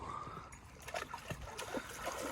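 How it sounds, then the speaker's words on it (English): Water splashes and trickles close by in a river, a steady wash of flowing sound, with small irregular splatters throughout. "splash them with water"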